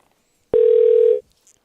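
A telephone line ringing while a call is placed, a single steady electronic ringback tone lasting about half a second, loud and clean over silence.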